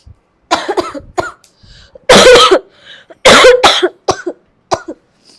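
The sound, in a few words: person coughing during doctor's examination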